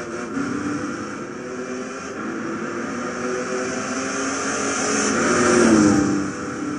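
A 1970 Dodge Charger 440 R/T with a supercharger revs and accelerates down a straight at Tsukuba in the racing game Gran Turismo 6, a continuous loud engine drone with a rising whine near the end, no talking.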